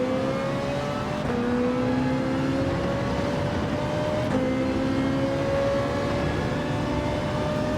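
A racing car engine in Gran Turismo 7 screams continuously at high revs, pitch rising through each gear then dropping at two upshifts, loud and close with no voices.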